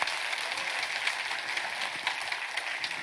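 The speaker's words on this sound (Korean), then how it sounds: "박수로 영광 돌리겠습니다" A church congregation applauding together during an all-night prayer service, a dense, steady wash of clapping filling the whole stretch at an even level.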